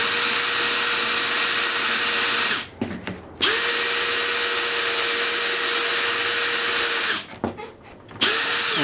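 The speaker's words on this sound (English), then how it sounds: "make sure you're drilling 90 degrees to the surface." A power drill runs at steady high speed while boring into a metal trailer part during a restoration. It whines loudly and continuously, cuts out briefly twice with short pauses and handling noise, then starts up again.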